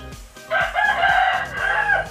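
Nine-month-old rooster crowing once at close range, a loud drawn-out cock-a-doodle-doo lasting about a second and a half, with low clucking or background fowl sounds around it.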